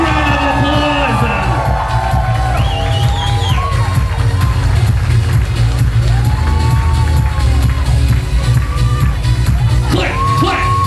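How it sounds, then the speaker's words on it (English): Wedding guests at a country club cheer and whoop for the newlyweds over loud music with a heavy beat, a crowd din with scattered shouts running the whole way through. "A big round of applause"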